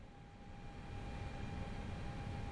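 Airliner engine drone from a flight simulator game with an FlightFactor A320, a steady low hum with a faint high whine, quiet and continuous without talk.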